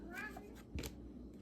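A cat meows a few times, brief and close, over low background hum, with a person speaking nearby.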